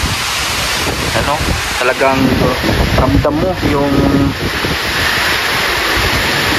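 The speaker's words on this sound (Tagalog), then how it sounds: "grabe po yung ulan mga kalingap. Grabe yung hangin" Heavy rain and strong wind from Typhoon Uwan roar as a steady, loud, close wash of noise throughout, while someone speaks over the storm.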